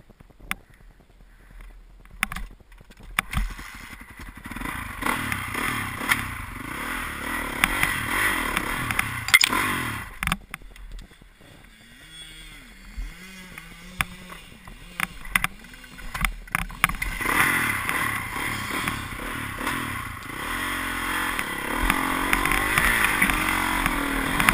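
A motorboat engine revs and drones over water, rising and falling in loudness with a few sharp knocks and splashes, no voices.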